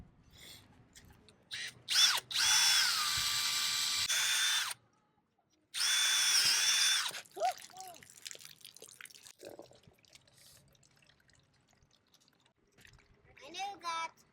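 A power drill whirs in two loud sustained bursts with a short pause between, followed by quieter clatter and a few voices, during a boat hull sandblasting and resealing job.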